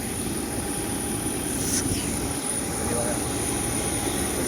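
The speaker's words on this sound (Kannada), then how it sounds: "ಓ ನೋಡಿ ನಮ್ಮ ಫ್ಲೈಟ್ ಹೆಂಗಿದೆ" An airplane at Bengaluru airport gives off a steady, loud broadband engine roar and hum that fills the whole stretch without letting up, with faint voices underneath.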